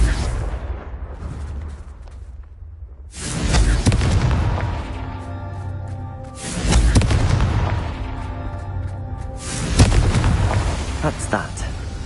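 Repeated Confringo fire spell explosions in the video game Hogwarts Legacy, three loud booming blasts with crackling bursts spaced a few seconds apart over a low rumbling game background.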